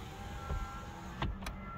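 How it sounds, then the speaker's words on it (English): Car power windows whir down briefly at close range, a soft steady motor hum with a couple of faint clicks. "I'm gonna roll down the windows because it's a nice day out today."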